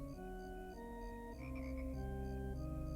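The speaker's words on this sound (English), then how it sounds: "You hear the frogs" Frogs croak at night in a steady, overlapping chorus of repeated pulsing calls, loud and near, layered over a sustained droning organ tone with no talking.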